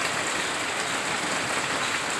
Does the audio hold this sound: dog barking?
no